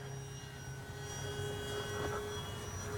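A Kavan Pilatus PC6 Porter RC plane flies inverted overhead, its small motor a thin, steady whine heard faint and distant against outdoor air noise.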